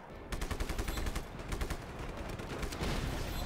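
Gunfire in Just Cause 3, a dense and continuous rattle of rapid automatic shots layered over a heavy low rumble, loud and unbroken throughout.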